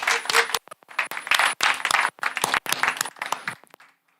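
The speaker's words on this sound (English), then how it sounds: "I want you to give a big round of applause for Frederik" Audience applause for a guest speaker at a tech event: a loud, close burst of hand clapping that runs for about four seconds in choppy waves, then stops abruptly.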